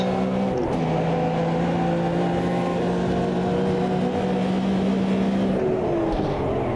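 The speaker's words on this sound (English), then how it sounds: "So make do with the engine noises." A Porsche 908 race car engine in the Automobilista 2 racing game, a loud continuous drone held at steady pitch with slight shifts as it revs, filling the whole stretch alone.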